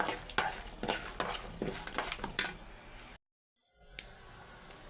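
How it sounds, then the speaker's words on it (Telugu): Peanuts fry in oil for lemon rice, sizzling with several quick scraping stirs before the sound briefly cuts out, then returns faintly with a single soft clink. "ఇప్పుడు నేనైతే వేరుశనగలు వేస్తున్నాను"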